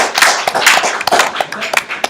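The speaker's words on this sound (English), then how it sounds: "big round of applause" Scattered hand claps, fairly loud and close, with a quick irregular rhythm like a small group applauding.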